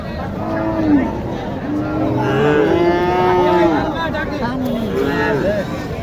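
A large cow lows repeatedly in long, drawn-out moos at a busy rural cattle market in Naogaon, Bangladesh, close and loud over crowd babble and nearby talking.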